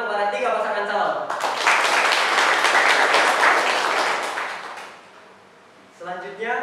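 Applause from a school audience at a student council (OSIS) chairperson debate at a vocational high school in Majenang, a dense sustained burst of clapping that swells after a spoken introduction, then fades before speech resumes.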